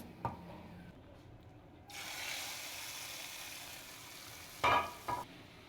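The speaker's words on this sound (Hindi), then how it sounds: "इसको अब तड़का लग गया है" Tempering spices and dried fenugreek leaves hiss and sizzle in hot oil for kadhi pakora, a steady broadband crackle that starts abruptly and holds, with a couple of louder clatters near the end.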